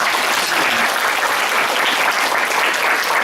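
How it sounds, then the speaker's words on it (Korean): An audience at a youth history lecture in the Suwon Hwaseong Museum breaks into steady, dense applause, a loud continuous wash of many hands clapping with no voices on top. "여러분 뜨거운 박수 한번"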